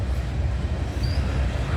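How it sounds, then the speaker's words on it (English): A CN Rail freight train rolls past heading toward MacMillan Yard in Toronto, Ontario, a loud, close, continuous rumble of cars and wheels on track with a brief faint squeal. "And this train is heading towards the McMillan Yard in Toronto, Ontario."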